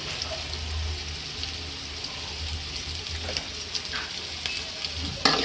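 Onions fry in oil for upma, giving a steady, close hiss of sizzling that runs throughout with a few faint clicks and one sharp knock near the end.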